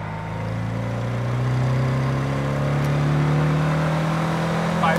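A Porsche 356 B with its 60 hp engine pulls in second gear, a steady rising engine drone heard from inside the car that climbs gradually in pitch and holds, with faint rattles near the end.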